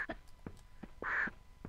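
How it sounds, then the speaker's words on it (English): Pecking and squawking from an attacking bird in Tomb Raider 2 at Barkhang Monastery, with several short sharp taps and one longer harsh cry midway, fairly close over quiet game ambience. "Ah, this bird is pecking me ass."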